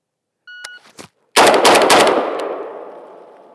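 After a few faint beeps and a soft click, a Galil Ace rifle fires three rapid, loud, close rounds in quick succession, and the echo trails off down the range.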